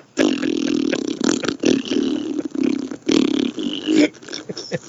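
A voice imitates a loud, long, wet ripping fart, a close buzzy sputter broken into several bursts over a few seconds.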